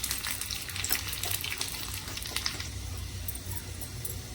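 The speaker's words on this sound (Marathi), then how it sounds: "आता लसूण भाजून घेते" Whole, uncrushed garlic cloves fry in hot oil for a tadka, giving a steady, close, fairly soft sizzle that crackles and spits evenly throughout with no voices.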